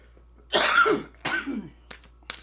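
A woman coughs from allergies: two harsh, close coughs, then a couple of softer throat-clearing bursts, with near silence between them.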